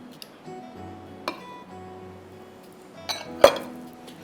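Ice cubes clink against a glass in a few sparse, sharp strikes, the loudest near the end, with quiet pauses between them and no talking.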